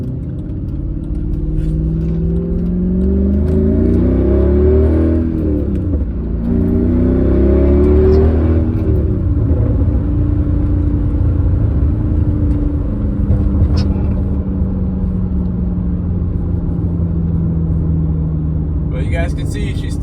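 A Mercedes C55 AMG V8 swapped to a manual gearbox accelerates hard in tall gearing, its deep engine note climbing through two rising pulls before settling into a steady loud cabin drone.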